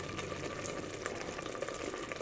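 Egg biryani bubbling and sizzling in a pressure cooker, a steady close crackle and simmer throughout with no talk.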